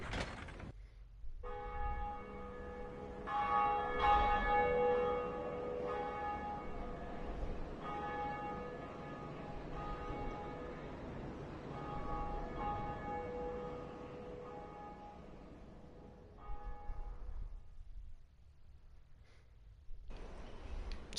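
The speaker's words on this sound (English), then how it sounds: "Bell rung." A large bell in the video game Dark Souls tolls with long ringing harmonic tones that sustain and decay over about twenty seconds, with a second strike partway through and a low ambient rumble underneath.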